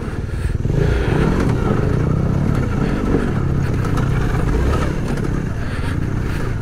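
A Suzuki V-Strom 800DE adventure motorcycle ridden off-road, its engine revving hard and steady for several seconds, loud and close, with gravelly clatter underneath.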